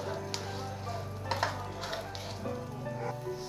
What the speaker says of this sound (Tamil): இது கொஞ்சம் நல்லா ஃப்ரை ஆகட்டும்.